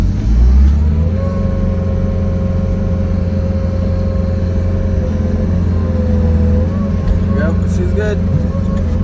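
Bobcat skid steer engine running steadily at raised idle, a constant loud drone with a slight rise near the start, with a person talking faintly over it.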